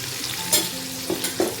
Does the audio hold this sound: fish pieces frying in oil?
yes